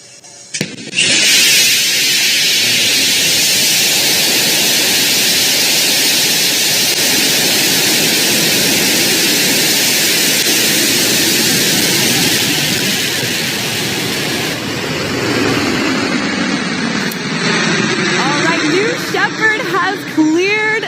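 Blue Origin New Shepard rocket engine roars at launch from Launch Site One in West Texas, a loud sustained broadband rumble lasting most of the clip before easing, with voices faintly audible underneath.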